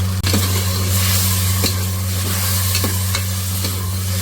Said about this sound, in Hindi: अब इन तीनों चीज़ों के साथ मैं इस गोश्त को भूनूंगी 3 से 4 मिनट